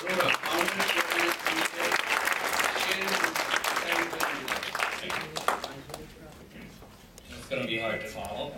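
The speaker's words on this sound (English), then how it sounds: "let's give a big round of applause to Samir Arora" Audience applause for Samir Arora, founder and chairman, a dense spread of clapping that runs steadily, then thins and fades near the end as a voice begins to speak.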